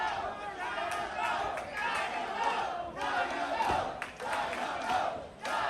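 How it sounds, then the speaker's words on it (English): Wrestling crowd at an MCW Dynamo Runs The Show event in Joppa, Maryland, chanting loudly and steadily for Dynamo, a dense wall of voices rising and falling in rhythmic bursts throughout. "This chant is for Brandon. It's for Dynamo."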